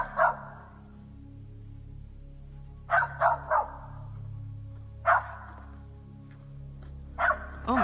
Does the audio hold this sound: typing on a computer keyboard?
no